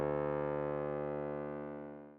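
A bass note through an EHX Bass Micro Synth with an added octave above and some distortion, a single sustained buzzy tone slowly fading out, clean and alone.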